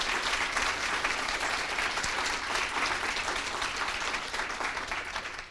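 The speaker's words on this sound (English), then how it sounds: "So let's give them a round of applause for that" Audience at a nursing school gift announcement breaking into sustained applause, dense, even clapping that fills the space and fades slightly at the end.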